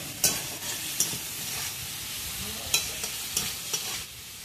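Pointed gourd pieces fry and sizzle in hot oil, a steady fizzing bed broken by several sharp stirring scrapes at irregular intervals, close and moderately loud with no voices.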